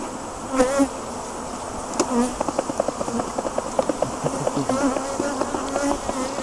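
A dense swarm of honeybees at an open hive during inspection buzzes steadily up close, with individual bees whining past in short bursts over the constant hum.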